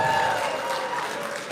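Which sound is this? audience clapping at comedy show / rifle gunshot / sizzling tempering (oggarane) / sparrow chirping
audience clapping at comedy show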